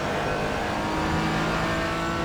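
A Porsche Cayman GT engine in the iRacing simulator at Road America hums steadily at a constant, moderate pitch, a continuous onboard drone with no voices.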